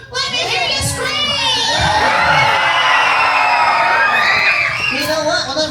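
A Disney World audience of children and adults screaming and cheering, a loud, close, sustained roar of shrieks and whoops that swells for several seconds and then tapers off.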